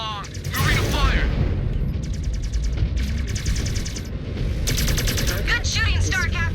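Heavy mech weapons fire in the video game MechWarrior 5: Clans, with dense rapid gunfire bursts and booming impacts over a constant rumbling din, while radio voices talk over the battle.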